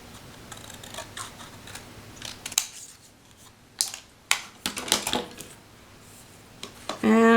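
Scissors trimming a small paper sentiment for a handmade card: a series of crisp, close snips and paper crinkles, irregularly spaced, with a louder rustle at the end.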